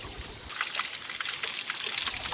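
Mountain spring water trickles steadily into a container as it is filled, a continuous close splashing stream that grows fuller after a brief start.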